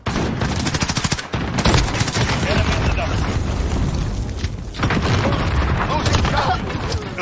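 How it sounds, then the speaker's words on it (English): Rocket blasts and rapid gunfire rumble almost nonstop through a modern shooter video game, with a brief drop in the din and voices talking over the action. "You got a rocket hit you."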